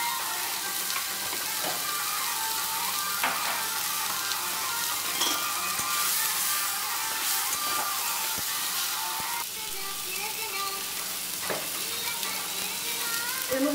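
Ground cumin and coriander sizzle in hot oil in a frying pan, a steady bright crackle broken by occasional stirring scrapes, close and continuous throughout.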